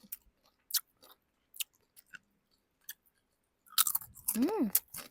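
Sour cream flavoured moringa chips crunch in a few sharp, separated bites, close and crisp with quiet gaps between them, followed by a burst of chewing and a short voiced murmur at the end.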